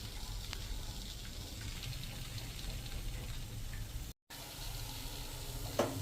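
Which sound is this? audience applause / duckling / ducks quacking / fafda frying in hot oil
fafda frying in hot oil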